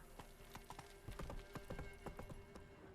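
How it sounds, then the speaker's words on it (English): Hooves of a horse galloping in The Witcher 3, a steady fast clip-clop rhythm of many close, distinct hoof strikes over steady game ambience. "What the heck are you doing, horse?"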